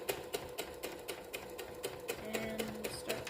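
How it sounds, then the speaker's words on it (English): A home sewing machine stitching fabric squares with a rapid, steady mechanical clatter of needle strokes, fairly quiet and close, with no talking. "And start sewing."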